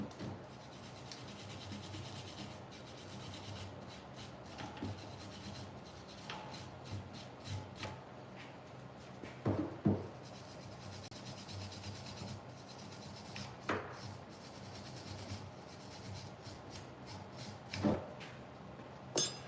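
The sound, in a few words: wire brush scrubbing brake parts during pad and rotor replacement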